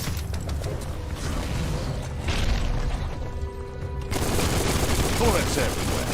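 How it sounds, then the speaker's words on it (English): Rapid gunfire crackles through a busy Biomutant game soundscape, steady and moderately loud amid mechanical clatter and background noise, with no clear separate shots standing out. "Bullets everywhere."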